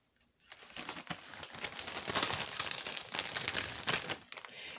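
A plastic bag crinkles and rustles steadily while pieces of ginger root are handled inside it, close up and fairly loud, with irregular crackling bursts and no talking.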